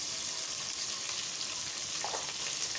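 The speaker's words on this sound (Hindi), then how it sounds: "कुकिंग ऑयल डाल दें, तकरीबन हाफ़ प्याली मैं इसमें कुकिंग ऑयल डालूँगी, क्योंकि पहले ही यखनी में काफ़ी फ़ैट निकला हुआ है, तो बस इससे ज़्यादा मैं नहीं डालूँगी। सबसे पहले प्याज डाल दें।" Onions frying in about half a cup of cooking oil for a mutton yakhni pulao, a dense, even sizzle that stays loud and steady throughout, with a faint stir midway.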